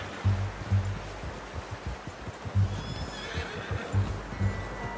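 A horse neighs and whinnies in repeated bursts, with low thudding hoof clops underneath and a faint hiss of running water in the background, in the video game Red Dead Redemption 2.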